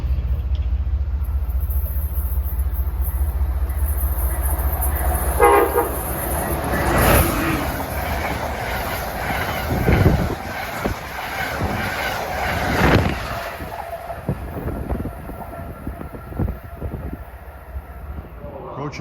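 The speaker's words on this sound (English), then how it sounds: "Approaching at 12:16 is train 818 from Stoughton to Boston." Commuter trains running through a station in the Boston area, with a horn sounding near the start and continuous loud rumble and wheel clatter close by, while a voice talks over the noise.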